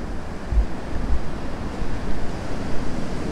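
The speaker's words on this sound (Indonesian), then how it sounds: "Ombaknya." Ocean waves roll onto Pangasan beach in Pacitan, East Java, as a continuous broad wash of surf mixed with wind rumble against the microphone, with no voices.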